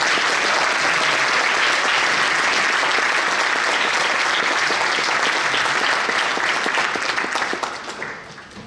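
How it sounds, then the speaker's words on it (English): A school audience at a spring band concert applauds for band letter winners, a dense, steady wash of many hands clapping that holds for several seconds and then tapers off at the end. "Claps for them."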